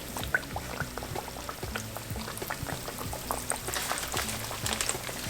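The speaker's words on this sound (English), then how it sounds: "Put your oil on medium heat, and when it's nice and hot, you want to drop that fish." Fish frying in a large pan of hot corn oil in Atkinson batter, a dense continuous sizzle and bubbling crackle that stays steady and close throughout.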